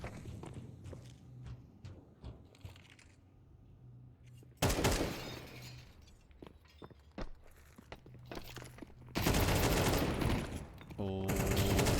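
Close-range UMP submachine gun fire in Counter-Strike, loud dense bursts of rapid shots in two stretches, separated by quieter footsteps and scattered game sounds, with a caster talking over parts of it.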